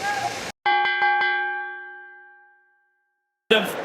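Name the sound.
boxing ring bell ringing at end of round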